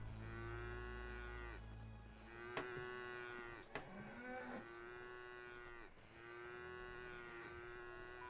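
A cow in the video game Craftopia lets out a series of long, droning moos, about four in a row with short gaps, with a couple of brief clicks in between and no voices.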